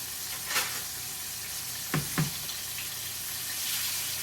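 Pounded pork loin chops fry in a pan with a steady broadband sizzle, broken by a few short soft knocks and scrapes near the middle; no one speaks.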